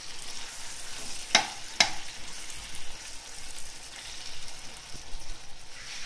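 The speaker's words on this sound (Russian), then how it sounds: "Баклажаны мы тщательно перемешиваем и обжариваем, чтобы они обжарились все." Eggplant is stirred and fried in a pan, a continuous soft sizzle with two brief sharp clicks of a utensil against the pan early on.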